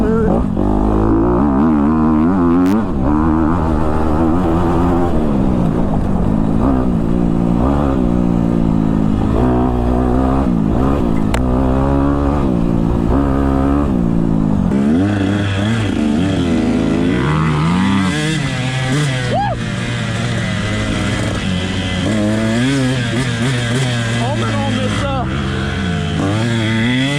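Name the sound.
Honda CRF250R four-stroke dirt bike riding in woods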